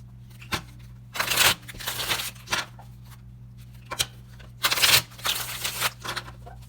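Tarot cards from a purple and pink deck being shuffled by hand, with two bursts of rapid riffling close to the mic and a few short taps in between over a steady low hum.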